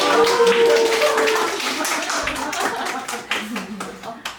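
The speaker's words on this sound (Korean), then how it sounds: "박수 쳐주세요" Audience at a bookstore book talk claps briefly, a burst of hand clapping that fades within a couple of seconds, with voices speaking underneath and after.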